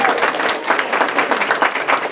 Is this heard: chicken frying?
no